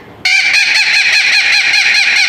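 At the El Paso Zoo, a parrot lets out a sudden, very loud, harsh call that repeats in rapid pulses and carries on close and shrill.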